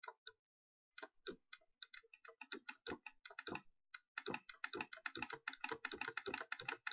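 Quick bursts of clicking from a computer keyboard and mouse while Pac-Man is opened in the HyperSpin frontend, short sharp taps in irregular clusters, close and fairly quiet.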